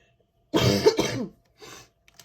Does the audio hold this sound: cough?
yes